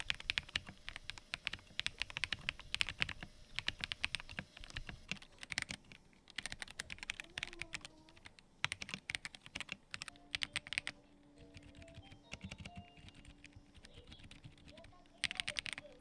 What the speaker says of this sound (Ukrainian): Тайпінг приємний, звук чіткий і мармуровий. Ось так воно звучить з різними свічами.